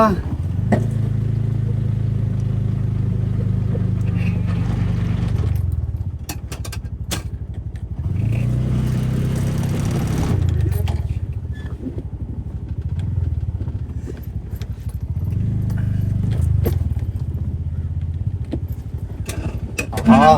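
A vehicle engine revving and straining in repeated bursts while trying to reverse at Kalpitiya, loud and close, easing to a low idle between surges, with people talking throughout.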